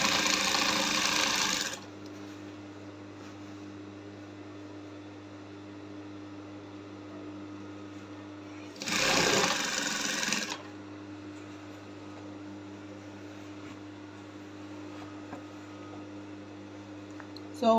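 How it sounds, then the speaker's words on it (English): Sewing machine stitching the neckline of a fitted kimono gown, two short bursts of running stitches separated by a quiet idle hum, close and fairly faint. "I'm sewing."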